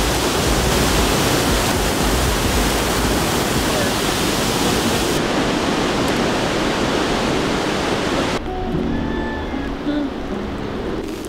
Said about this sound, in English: They say it doesn't rain in Africa, they're lying. It's pouring.